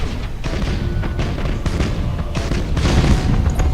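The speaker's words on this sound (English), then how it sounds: "Fire the torpedoes in that direction." Torpedo explosions in the space battle game Battlefleet Gothic: Armada, a dense run of booming thuds and rumbling blasts in quick irregular succession, loud and continuous.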